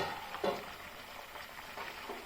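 Egg masala curry is stirred as it fries in oil, giving a quiet sizzle with a few soft scraping strokes of the spoon and no speech.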